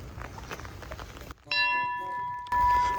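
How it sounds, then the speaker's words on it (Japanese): A bell at a lovers' sanctuary in Karatsu, Saga, is struck once on a rainy day and rings out clearly with a lingering metallic tone, framed by rain and wind noise before and after. "幸せの鐘的なのがあります。"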